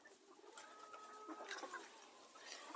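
Mini meat breed rooster and hen making soft, scattered clucks and chatter, faint and somewhat distant against a steady high hiss, with no talking.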